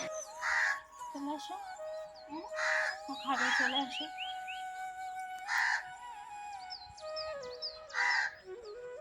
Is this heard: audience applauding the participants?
no